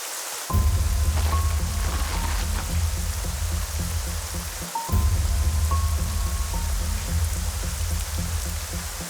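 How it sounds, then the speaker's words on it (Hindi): Heavy rain pours steadily in a dense, continuous wash, broken by a short gap midway before resuming, with a few faint high chirps over it. "अरे कृष्णा, बारिश बहुत तेज हो रही है"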